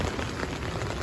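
Rain falling steadily at an outdoor dinosaur theme park, a dense, even hiss of drops spattering on surfaces close by, with no voices.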